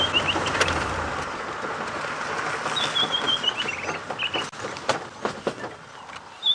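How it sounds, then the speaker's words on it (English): Birds sing and call outdoors on an early-morning safari drive, with high whistled phrases over a steady background hum and faint rustling. "let's just listen to the birds here for a second."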